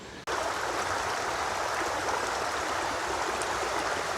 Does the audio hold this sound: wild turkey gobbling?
no